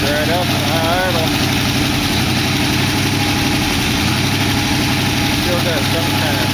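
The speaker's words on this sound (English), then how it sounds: "Right up in high idle." A 1914 engine running at high idle, a steady loud mechanical drone with low rumble and constant vibration throughout, close up, with some intermittent talk over it.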